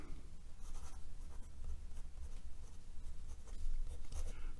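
A steel fude nib on a Sailor Profit fountain pen scratches across 90 gsm Clairefontaine paper in a faint, close, continuous rasp, with short strokes and brief pauses.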